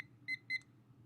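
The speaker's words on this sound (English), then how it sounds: "we're going to make our timer 3 minutes" A timer being set to three minutes before a coffee pour gives two short, evenly spaced electronic beeps, fairly quiet over a low background hum.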